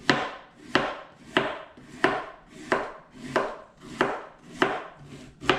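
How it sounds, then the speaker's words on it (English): A knife slicing through fresh pears from a home tree, nine crisp evenly spaced cuts with a woody knock as the blade meets the board, close and clear, no voices. "start slicing the pears up"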